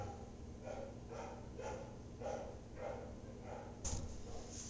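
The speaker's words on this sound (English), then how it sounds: "So there's dogs barking right now" Dogs bark at a distance outdoors in a rapid, regular series of muffled, repeated barks over steady background noise, followed by a slightly louder sharp sound near the end.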